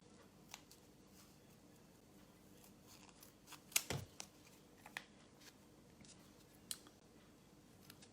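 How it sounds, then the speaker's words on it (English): Quiet, intermittent snips of small scissors cutting out a paper sewing template, with one sharper snip standing out against a faint background hiss. "These little scissors are so handy."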